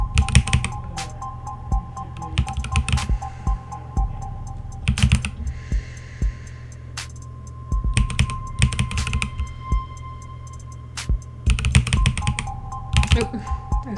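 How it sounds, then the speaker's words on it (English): Computer keyboard keys are pressed while playing a rhythm game, with rapid clustered clicks arriving in bursts separated by short pauses, close and crisp throughout. "I was pressing the wrong key."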